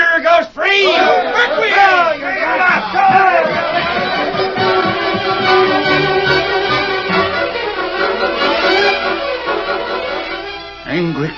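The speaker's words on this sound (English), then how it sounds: "Angry crowd marched to courthouse." An angry crowd of men marching to a courthouse, a loud, sustained roar of many shouting voices that swells and persists throughout, with yells and bellows rising from the mass.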